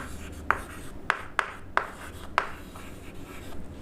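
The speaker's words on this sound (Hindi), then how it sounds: "कुछ कंडीशन लिख लें" A marker or chalk scratches out short strokes on a board, five sharp taps and scrapes spaced irregularly over a quiet room hum.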